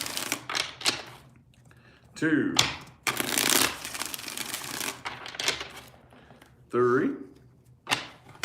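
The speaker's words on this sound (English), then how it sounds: "Four shuffles here." Tarot reading cards shuffled by hand in several bursts of riffling and slapping, with a voice talking and counting in between.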